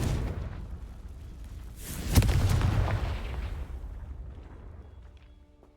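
A fire-blast spell explodes in Hogwarts Legacy, a sharp crack swelling into a deep rumbling boom that slowly fades over several seconds.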